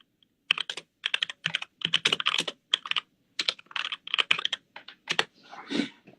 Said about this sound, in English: I'm boomer typing